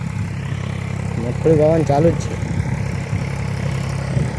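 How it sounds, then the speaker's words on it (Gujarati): A tractor engine idles with a steady low rumble in a field where groundnuts are being sown, while someone talks over it at close range. "તો ટ્રેક્ટર આવે જ છે."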